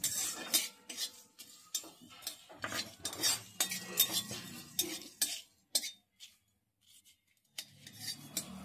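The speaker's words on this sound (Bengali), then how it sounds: "এগুলোকে আমি শুকনো কড়াইয়ে ভেজে নিচ্ছি" Dry spices such as poppy seeds, coriander, cumin and pepper rattle and scrape as they are stirred in a hot dry wok, with sharp irregular metallic clinks and a brief quiet pause near the end.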